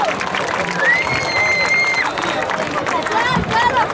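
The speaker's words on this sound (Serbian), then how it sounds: "Aplauz za naše Kruševačko viteško udruženje Lazarevi Zmajevi" Crowd applause and cheering for a Kruševac knights' association at an outdoor May Day eve gathering, lively clapping mixed with crowd noise and a voice over it.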